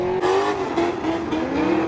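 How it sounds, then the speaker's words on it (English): Two cars doing burnouts at an illegal nighttime street takeover in South LA, engines roaring continuously with a steady whine and tire squeal, loud and close with crowd noise underneath. "2 cars doing burnouts."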